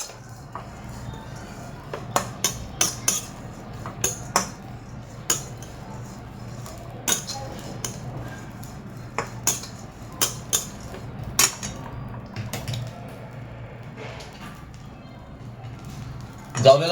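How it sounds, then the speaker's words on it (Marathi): Dried tiny shrimp roasting in a pan, with repeated sharp metallic clinks and scrapes of a spatula against the pan at irregular intervals over a low steady hum. "जवला चांगला खरपूस भाजून घ्या."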